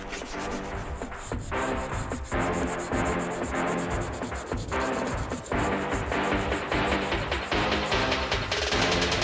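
Sanding down raised tabs on tire lettering parts for a 1971 Toyota Celica TA22: continuous, loud, close abrasive rubbing in steady back-and-forth strokes with brief dips, with no talk.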